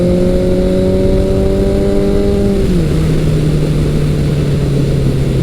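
A vintage Suzuki GS1100 motorcycle engine pulls hard as a steady tone holds, then drops pitch with a shift and continues droning loudly at close range.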